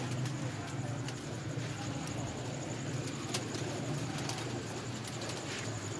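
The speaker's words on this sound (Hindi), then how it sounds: "ये सारे लाल आंखों के कबूतर हैं" Red-eyed pigeons coo in a loft, soft repeated calls within a steady background of rustling and ambient noise.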